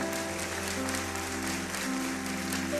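A church congregation at a Portuguese-language evangelical service claps in a continuous wash over sustained organ or keyboard chords, steady and fairly loud for the whole stretch.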